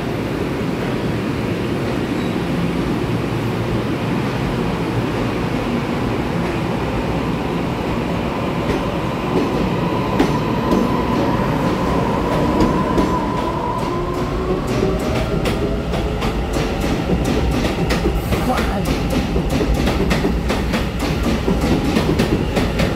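A Taiwan Railway EMU900 ten-car commuter train pulls away from Fulong station on the Yilan line, a steady loud rumble building with rail clatter and rising motor whine, no talk.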